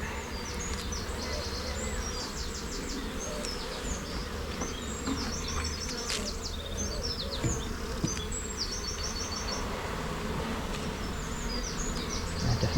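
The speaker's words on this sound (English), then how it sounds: "definitely more bees in this side" Honeybees in an open split box hive under inspection hum in a dense, steady swarm buzz, close and constant throughout, with individual bees zipping past the microphone and brief speech over it.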